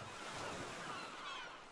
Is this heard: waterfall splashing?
yes